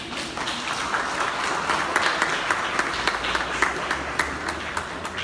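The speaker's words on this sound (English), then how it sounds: "which I think is worth an extra round of applause" Audience at an art exhibition opening applauding a British artist's first solo show, a steady room of clapping with a few distinct nearby claps, heard alone without talk.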